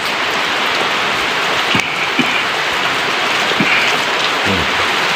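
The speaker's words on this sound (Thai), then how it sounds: "ฝนตกแล้วนะครับ" Steady, close rainfall hisses continuously across the whole stretch, with scattered drops tapping on nearby surfaces and no voices.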